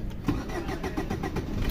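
A Chevrolet Enjoy MPV's 1.4 litre four-cylinder engine runs steadily nearby, a continuous even mid-pitched hum with faint rhythmic pulsing.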